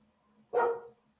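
A single short, sharp dog bark rings out close by against a quiet background.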